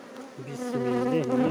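Honeybees buzzing at a hive being split into several colonies, with bees on a plastic frame; a steady, close, droning buzz that rises in pitch and swells in loudness.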